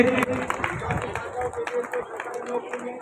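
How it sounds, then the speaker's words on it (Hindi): Enthusiastic applause for a student at a community award ceremony for talented children, a dense crowd of clapping with some babble mixed in, steady and fairly close throughout. "जोरदार तालियां हो जाए इनके लिए।"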